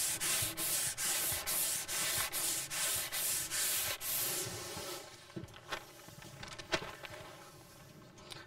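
A hard sanding block scrubbing over primer on a car body panel: about a dozen loud, even rhythmic strokes, then softer, irregular scuffs and taps.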